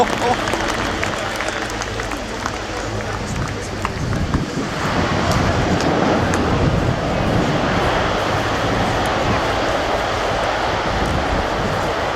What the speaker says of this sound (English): another of the A400M's capabilities being demonstrated